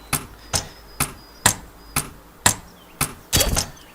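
Hammering in the VR game A Township Tale: eight sharp metallic strikes land about every half second at close range, with the last blow ringing and rattling longer.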